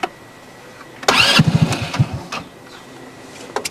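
A 2008 ASW Carbide Fox 150cc go-kart engine cranks over in a short burst of rapid mechanical chugging, then settles into quieter clicks and faint running sounds, close by and with no talking.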